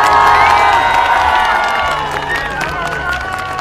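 A large crowd at a packed dance performance in San Francisco cheers and applauds loudly and continuously, with shouts and whistles rising over steady clapping, then easing slightly toward the end.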